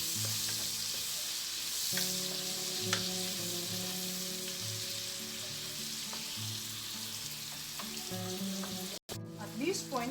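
Chopped onion sizzles steadily in a hot pan while carbonara is being made, a constant, fairly quiet crackling hiss with a low hum underneath and a few stirring clatters near the end.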